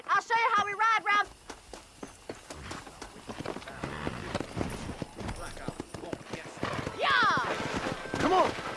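Horse hooves clip-clop at a quick gallop in the Red Dead Redemption video game, with a horse's whinny near the end, rhythmic and close under the players' excited talk.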